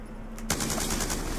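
Rapid automatic gunfire in Black Ops 2 multiplayer bursts in after a brief lull and continues as a fast, steady string of close, loud shots.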